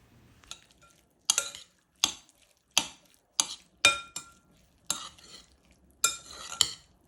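A spoon stirring tomato tartare with a teaspoon of olive oil in a bowl, giving about eight separate scraping clinks of utensil against the dish, close and clear, with quiet pauses between strokes.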